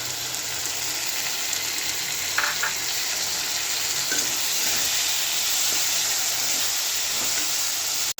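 Ginger paste, garlic paste and peas fry in a pan, a steady, close sizzle and hiss with a few soft stirring scrapes and no voices.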